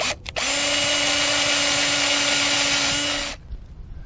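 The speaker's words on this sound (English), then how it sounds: "Next, we're going to go ahead and drill the vent hole." A power drill whirs at steady high speed for about three seconds, boring a vent hole in a sump pump discharge pipe, loud and close, then winds down and stops.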